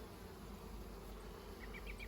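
Honey bees buzz at a top bar hive during a spring inspection, a soft, steady, continuous hum close by with no voices.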